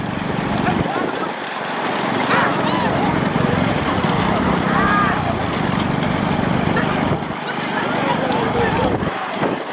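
Bullock cart race with pairs of bulls charging along a village track, hooves drumming steadily beneath a constant roar of crowd and engine noise, with a commentator talking throughout.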